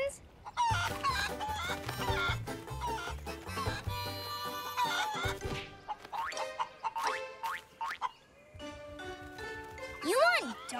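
Chickens cluck and squawk busily up close among springy cartoonish sound effects and bright tones, a lively jumble of calls.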